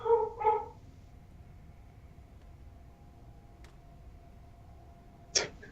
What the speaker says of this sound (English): so their dog's barking, so my dog's barking